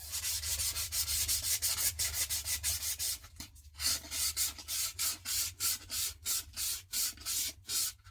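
Sandpaper works the store-applied finish off a wooden axe handle in steady back-and-forth strokes. The rhythmic, close rasping pauses briefly midway, then picks up a faster cadence over a low background hum.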